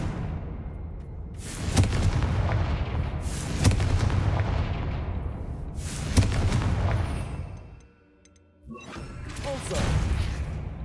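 Repeated Confringo fire spells in the Hogwarts Legacy video game, heard as loud booming blasts that recur every couple of seconds, with a brief quiet gap before another burst.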